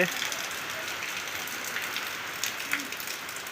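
Heavy, steady rain pours down around a house among trees, a dense even hiss with scattered louder drips and splashes, continuous throughout.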